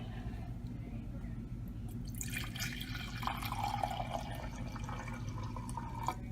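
Quiet trickling of cold water poured into a pot for yarn dyeing, starting partway through and splashing softly over a low background hum.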